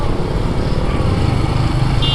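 A Royal Enfield Hunter 350 motorcycle engine drones steadily while riding, close and fairly loud with a rough low rumble and wind noise throughout.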